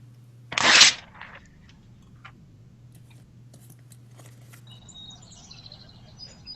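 Birds in a stage play: a sharp burst of bright chirping near the start, then faint sparse twittering over a quiet steady hum with no talk.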